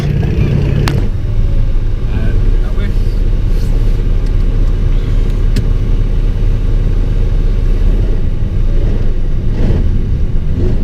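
Ural military truck grinds along off-road in Siberia, a constant low engine rumble heard from the cab, with occasional knocks and rattles over the terrain.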